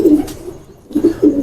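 An old-breed rooftop breeder pigeon cooing in low, soft, throaty bursts, a couple of rolling coos close by separated by a brief pause, with no voices.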